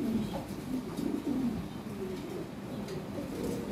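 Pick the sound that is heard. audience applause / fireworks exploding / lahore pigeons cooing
lahore pigeons cooing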